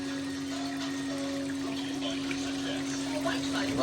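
Water rushes steadily from a thin hose pipe under high pressure with a constant mechanical hum, a continuous gushing noise without pauses.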